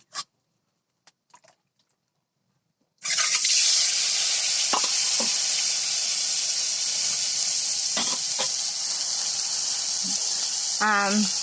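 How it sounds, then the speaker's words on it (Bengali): Egg bhuna cooking on a clay stove: a steady, loud sizzling hiss of frying carries on for about eight seconds after a quiet start, with a few scraping stirs and a brief voice near the end. "আজকে রান্না করে দেখাবো ডিম ভুনা"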